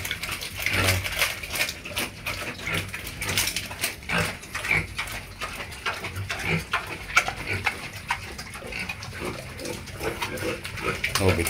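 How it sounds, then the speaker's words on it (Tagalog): Loud, wet chomping and slurping from a pig feeding close by, with steady crunching and snuffling throughout and no talking. "Tingnan nyo, malakas kumain ng baboy po."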